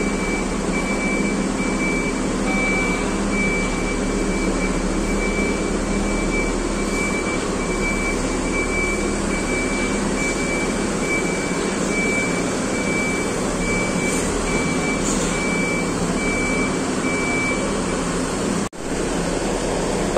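Three front-engined PO Haryanto Mercedes buses idle at a bus depot before departure, making a loud, continuous diesel drone that holds steady throughout with only a brief dip near the end.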